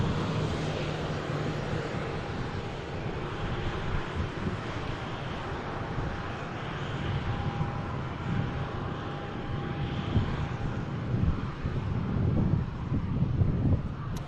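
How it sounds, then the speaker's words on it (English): A Pegasus airliner taxiing slowly toward Terminal 2 at Manchester Airport gives a steady, continuous engine roar with a faint whine, heard from a distance and mixed with buffeting wind noise on the microphone, and no talking. "A slow taxi here from the Pegasus, taking the time as they move into Terminal 2"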